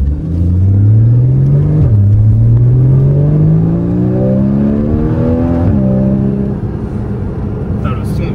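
Porsche Cayman S 981 engine and exhaust heard from the cabin, a loud steady drone climbing in pitch through two upshifts with brief dips between gears, under continuous road rumble.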